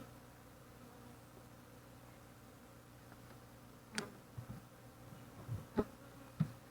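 Honeybees settling into a newly started hive from a nucleus colony give a low, steady hum close by, broken by a few soft knocks and ticks near the end.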